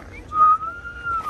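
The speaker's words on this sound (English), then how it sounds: "Like that whistle?" A single whistled tone, rising and held, from someone at a hotel in Manzanillo, Mexico, sounding moderately loud and close over low background murmur.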